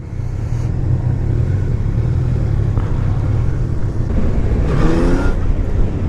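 A 2019 Yamaha Niken three-wheeled motorcycle engine drones under riding, a loud, steady low rumble with wind noise close to the rider, rising briefly in a rev near the end.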